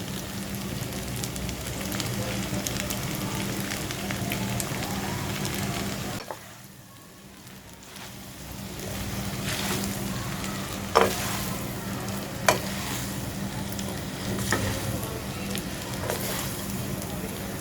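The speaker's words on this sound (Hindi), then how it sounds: "मैं ये जो सब्जियां हमने फ्राई की थी ये ऐड कर दूंगी" Fried vegetables tossed into a wok for chicken chow mein set off a loud, continuous sizzle and stir-fry hiss, with a short lull partway through. A few sharp clanks from stirring cut through, and no one talks.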